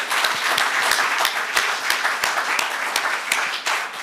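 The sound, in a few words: applause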